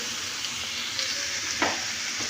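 Coconut milk cooking with santol in a pan, giving a steady close sizzle with soft stirring scrapes and a brief splash as the mixture is moved.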